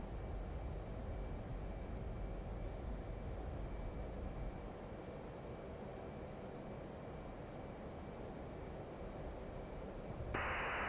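A fighter jet's engine roars steadily in Digital Combat Simulator as the aircraft takes off on a strike mission over Damascus, a continuous loud drone with a sudden bright burst near the end.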